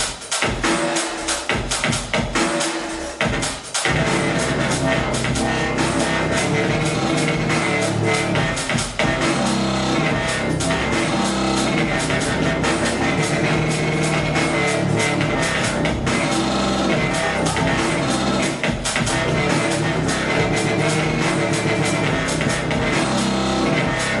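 A dense synth patch made in Massive rides over a quick electronic beat with a steady pulse, loud and continuous, with no voices.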